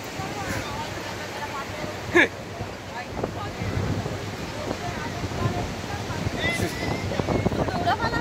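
Sea waves wash in at Digha beach as a steady rushing surf, mixed with gusty wind buffeting the microphone, while people chat nearby.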